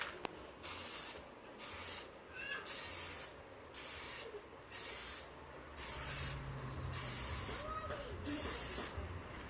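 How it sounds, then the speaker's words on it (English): An aerosol can sprays plastic dip over a Chevy emblem on a Camaro SS. Close, steady hissing bursts come in a regular rhythm, about eight short passes, each a second or so long with brief pauses between them. "let's go ahead and spray that down our first layout"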